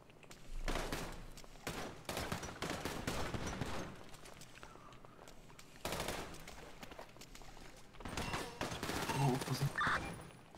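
Bursts of automatic gunfire in a GTA roleplay gang shootout, dense rapid fusillades in three separate volleys with short pauses, fairly loud and close, with some talk under the shooting.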